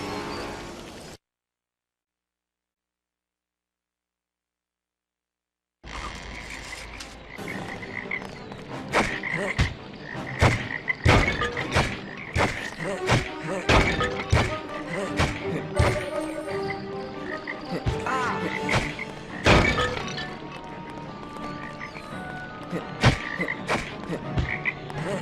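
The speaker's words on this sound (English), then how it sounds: "Look at all those toads." Toads croak steadily in the video game Lemony Snicket's A Series of Unfortunate Events. The loud, repeated croaks layer densely over one another and keep going after a brief silent gap at the start.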